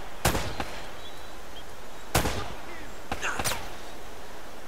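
9mm pistol gunfire in Uncharted: three sharp broadband shots spaced a second or two apart, moderately loud over a steady game ambience bed.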